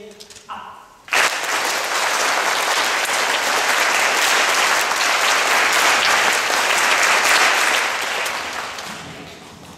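A large audience claps in unison to a learned rhythm at a concert, loud steady applause filling the hall for about nine seconds after a brief pause at the start.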